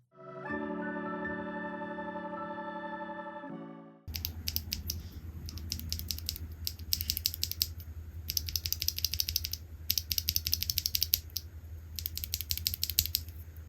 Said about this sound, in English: Now you can also get this board with the Akko Cream Yellow V3 Pro switches. These are linear switches.